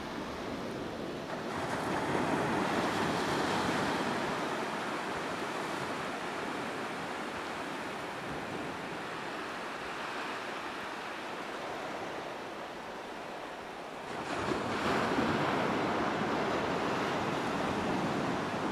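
Waves break steadily on the beach at Embo on the Sutherland coast, a continuous roar of surf mixed with wind buffeting the microphone, swelling slightly near the end.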